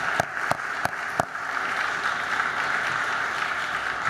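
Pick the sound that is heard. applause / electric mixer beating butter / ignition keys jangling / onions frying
applause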